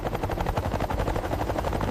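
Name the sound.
Z-10ME attack helicopter flying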